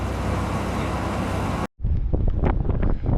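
Wind buffets an outdoor microphone near Skagway, a loud, rough rushing roar that cuts off abruptly partway through, followed by quieter gusty rumbles and scattered noises.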